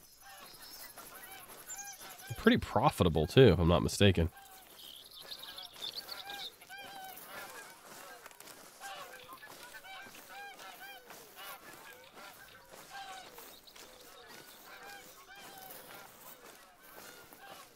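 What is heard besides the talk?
geese honking in the video game theHunter: Call of the Wild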